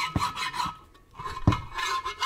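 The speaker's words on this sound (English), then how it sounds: "I might take a file and go over everything like this, make sure all the surfaces are flat" A hand metal file scrapes across the surfaces of a Muncie 4-speed transmission case to flatten them, giving a few close, gritty rasping strokes with a short pause between them and no talking.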